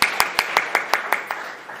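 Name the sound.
audience applause welcoming a speaker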